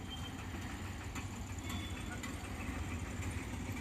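A rented motorbike idles at Tirumala with a steady low rumbling hum, close and unbroken, while voices are faintly present in the background.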